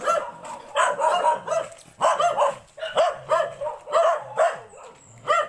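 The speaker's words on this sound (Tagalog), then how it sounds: "nagkakahulan na po yung mga aso" Several dogs bark in quick, overlapping bursts close by, a rhythmic volley of barks and yips that keeps going throughout.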